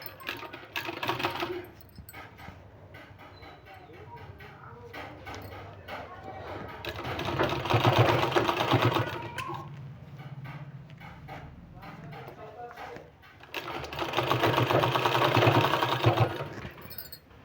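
A sewing machine stitches a sleeve design in two bursts of a few seconds each, with a person talking between and over the runs.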